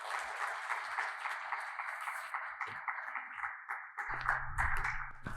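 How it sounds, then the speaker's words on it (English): Audience applause at the close of a talk on green building and premium housing: fairly quiet, steady clapping with a low rumble joining near the end. "A big round of applause."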